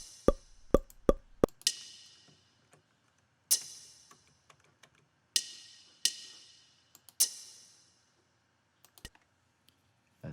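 A dry snare drum sample with no reverb, played as a series of sharp, clipped hits. A quick cluster of four strikes is followed by sparser single hits and a few faint ticks, all short and quiet with no talking.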